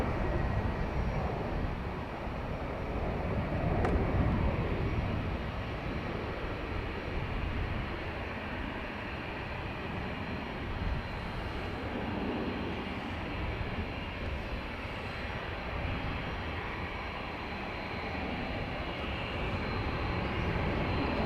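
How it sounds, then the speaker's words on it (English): An ATR turboprop from Edinburgh comes in to land at Dublin Airport, its engine drone loud and steady throughout, a broad continuous roar with no talking. "last one about to land, our ATR from Edinburgh"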